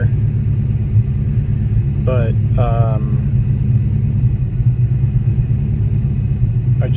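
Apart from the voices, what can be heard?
Ford Fox body Mustang engine starting and running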